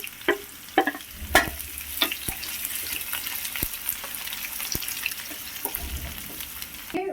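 Onions fry in a pan tempering with seasoning for buttermilk rasam, a close sizzle broken by repeated sharp scrapes and clinks of a spoon stirring, no talking.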